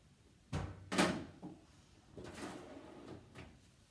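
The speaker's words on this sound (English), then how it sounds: "Then I'm going to put it right in the bottom drawer of my oven." A kitchen oven's bottom drawer slides and knocks shut, giving a few short thuds and scrapes spread over several seconds in a quiet room with no one talking.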